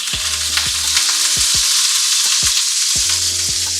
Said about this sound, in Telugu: ఇప్పుడు ప్యాన్ కూడా వేడెక్కిపోయింది. ఇందులో 2 స్పూన్స్ బటర్ వేసుకుందాం.